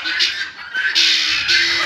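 A flock of guinea fowl squawking loudly on a farm, harsh repeated shrill calls in bursts, close and overlapping, with a person talking underneath.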